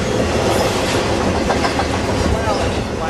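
A westbound CSX freight led by a GE Evolution-series locomotive rushes past at night, its loud, steady roar of wheels and rail clatter close by and sustained throughout.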